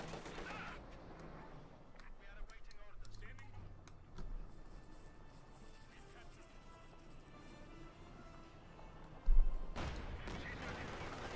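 Tank cannon fire from a Company of Heroes 2 battle between a Panzer IV and a T-34-85, with a sharp blast near the end under steady battlefield noise and continuous commentary.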